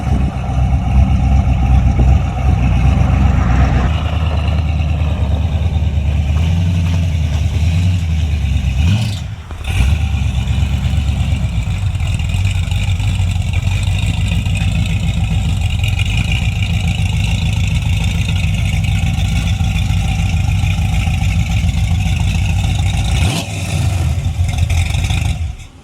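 An LS-swapped Chevrolet S10 running on an MSD 6014 ignition box rumbles loudly and up close, holding steady with a few rev swells and a brief sharp dip partway through; no one speaks.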